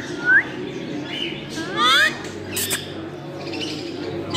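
White ring-necked parrots on a bird breeding farm, a few sharp squawks and chirps between quieter stretches, with someone talking throughout.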